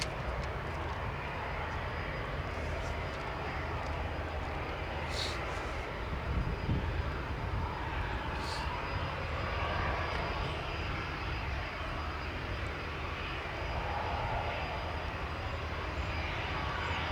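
A small airplane departs from Hanscom Field in Bedford, its steady engine drone holding fairly loud and even throughout, with no voices over it.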